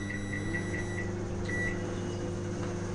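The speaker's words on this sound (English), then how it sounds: "Place it inside the microwave and" A microwave oven runs with a steady low hum and drone, cooking a bottle gourd curry in a covered dish, with a faint intermittent tonal whine over the constant motor noise.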